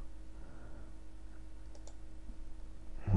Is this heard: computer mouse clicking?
yes